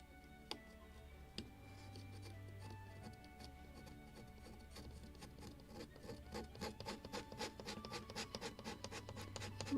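Wood being scraped and rubbed by hand on a Model Shipways kit of the 1776 gunboat Philadelphia, a quiet close rasping that builds into a fast, steady run of short strokes with occasional ticks.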